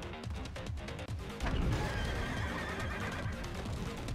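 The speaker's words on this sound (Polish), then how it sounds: "On nawet robi dźwięk konia, come on." A horse neighs and whinnies from a charging enemy in the video game Stellar Blade, a fairly loud call mixed with a sharp crash and rhythmic clip-clop hoofbeats, with no talking.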